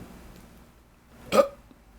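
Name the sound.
burp, belching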